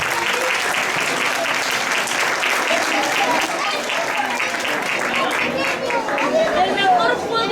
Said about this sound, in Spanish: recibiendo con un aplauso enorme a Danzas Asociación Mira España de A Coruña con Contradanza.